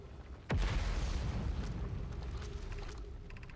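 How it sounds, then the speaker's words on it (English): A gravity cannon fires in the space exploration game Outer Wilds, a sharp loud boom that gives way to a sustained rumbling roar with faint mechanical tones, heard alone. "Gravity cannon."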